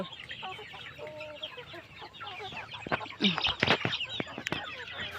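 Hmong chickens cluck and chatter nearby on a hill farm, several birds overlapping in busy bursts, with a few louder squawks near the end.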